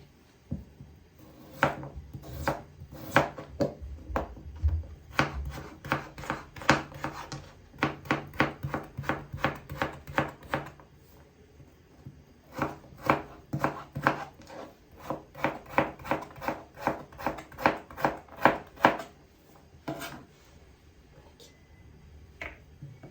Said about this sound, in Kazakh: Енді көкөністерімізді тура осылай қылып майда көбейтіп, яғни 4-4 етіп турап аламыз